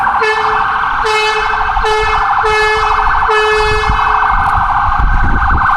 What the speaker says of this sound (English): Some sirens going off right now.